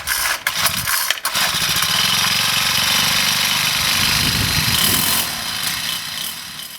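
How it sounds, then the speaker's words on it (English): A small gas-powered Troy-Bilt garden tiller runs close by, its engine a loud, rough, pulsing chug as the tines churn soil, with a brief stutter early on and a slight easing of load near the end. "Just have this little gas-powered Troy-built tiller, which really helps."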